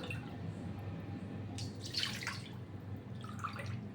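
Two cups of water poured into a pan for making semolina roti: a quiet, splashy pour in two short bursts over a low background hum.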